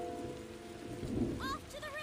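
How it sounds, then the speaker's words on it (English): Rain and rumbling thunder from a thunderstorm in the video game Tales of Xillia 2, a steady wash of rain with a low roll of thunder, then brief game tones rising over it near the end. "This thunder's pretty intense, huh?"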